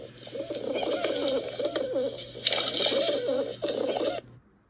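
A pigeon cooing in repeated soft, throaty rolling phrases, close and steady, with a faint hum in the background.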